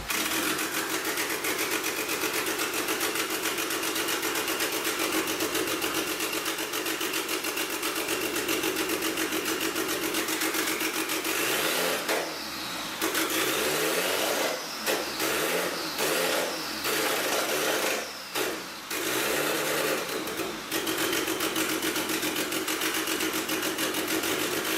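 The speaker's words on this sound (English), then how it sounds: "We got the EK hatch running, it's on its own, idling, sounds amazing, sound beautiful." A Honda Civic EK hatchback with a swapped H/F-series engine idles steadily and loudly up close for the whole stretch, with a few brief revs and rough dips partway through.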